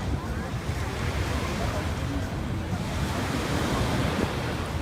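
Surf rolling onto a beach in Dubai at night, a steady, continuous wash of waves with some wind noise on the microphone, loud and close throughout.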